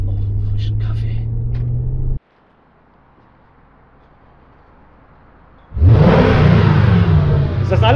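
A rusty AMG car idles with a low rumble, goes quiet, then revs hard and pulls away close by in a loud, rising roar. Voices can be heard.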